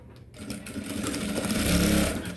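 Electric sewing machine stitching the folded hem of a men's outfit from the inside, a close, steady mechanical whirr that starts after a brief pause and grows louder and denser, running continuously to the end.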